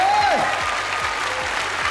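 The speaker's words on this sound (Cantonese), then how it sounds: "好，俾啲掌聲撞下膽先啦" Studio audience at a Hong Kong TVB variety game show breaks into steady, dense applause, a continuous wash of clapping that holds at full level throughout, with a brief voice sliding over the start.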